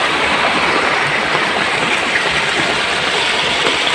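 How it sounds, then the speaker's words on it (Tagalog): Heavy rain pours down steadily in the rural countryside as floodwater rises. It makes a loud, dense, unbroken hiss with no talk. "Lakas ng ulan."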